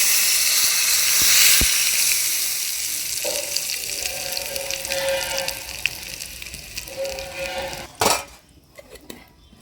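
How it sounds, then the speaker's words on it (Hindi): Asafoetida and cumin sizzle as they drop into hot oil, a bright crackling hiss that fades gradually, with clinks of a metal utensil against the pan and a sharp clatter near the end. "तेल जब गरम हो गया है तो उसमें डाल दिया है हींग और जीरा।"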